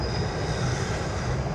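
A train rolls past in the background with a steady, continuous broadband rumble and a faint high whine, heard alone throughout at moderate level.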